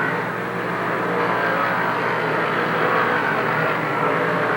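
Roaring engines of modified race cars in a feature race at Lernerville Speedway, a loud continuous racing drone heard from the stands.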